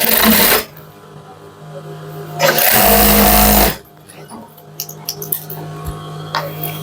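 Sewing machine stitching the sleeve of a Punjabi garment, two loud whirring runs of stitching separated by quieter pauses, followed by small clicks and handling taps nearby.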